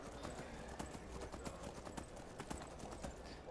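Horse hooves clip-clop steadily at a quick trot in Skyrim, a dense run of sharp, evenly spaced footfalls over a constant low rumble of game ambience.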